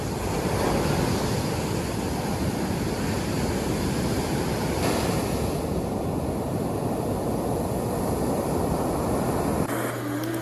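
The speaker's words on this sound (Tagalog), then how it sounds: "Lakas kasi ng alo, no? Matatangay ka dito." Strong ocean waves crash onto a beach at San Juan, La Union, as a constant, loud roar of surf mixed with wind buffeting the microphone, with no voices.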